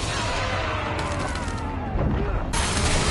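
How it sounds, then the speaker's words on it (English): A flash grenade goes off amid bursts of rapid gunfire in Resident Evil 4 Remake's Mercenaries mode, loud and dense throughout, with a sharp bright surge near the end. "Flash grenade, bitch."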